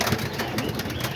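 Homing pigeons cooing close by in their loft, a continuous murmur of soft throaty calls with rustling in the background.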